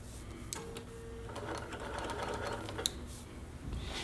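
A sewing machine stitches along basting lines on a quilt top. It gives a steady, fairly quiet mechanical whir with a short pause partway through and a small click near the end, and no one speaks.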